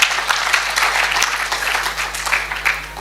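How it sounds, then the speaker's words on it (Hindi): Brief burst of audience clapping at a Hindi spiritual talk in Nagpur, a dense, continuous patter of many hands filling the hall at fairly close range, with no speech over it. "अरे ये भी कोई ताली बजाई"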